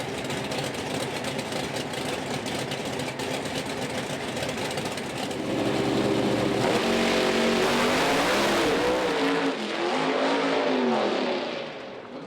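Pro Stock drag race cars with Allen competition engines roar side by side at a PDRA East Coast Nationals event, a loud sustained engine blast that swells as they accelerate, then rises in pitch and fades away near the end.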